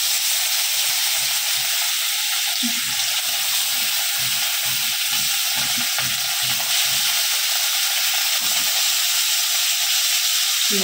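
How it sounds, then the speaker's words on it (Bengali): Katla fish pieces fry in a little reused oil in a pan, making a loud, continuous sizzle and hiss with soft, rhythmic low knocks as the pan is worked. "একটু ভেজে নিই, তারপর লেজাটা দেবো"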